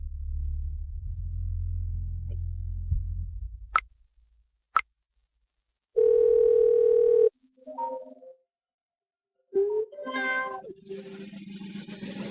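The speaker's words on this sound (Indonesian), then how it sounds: "Tuan Jiang, saya akan angkat telepon ini" A telephone rings with a single sustained electronic tone lasting just over a second, preceded by a few sharp clicks and followed by other short tonal effects, with no talking.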